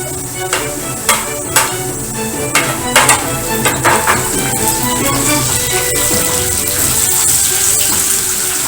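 Onions frying in a pan until golden for a palak paneer, a loud continuous sizzle with a series of sharp clinks and taps over it early on, then settling into an even hiss.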